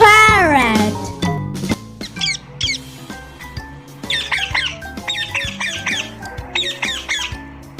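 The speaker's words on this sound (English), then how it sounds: "P for parrot." A parrot gives loud, close, repeated squawks and raspy calls in a quick series, over bright music.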